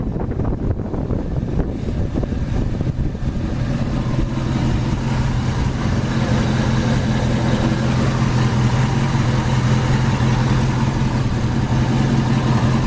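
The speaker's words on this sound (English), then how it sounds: "289 V8 engine, runs excellent," A white 1965 Ford Mustang convertible with a 289 V8 and GT trumpet dual exhaust idles steadily, a low even rumble held close, with wind buffeting the microphone throughout.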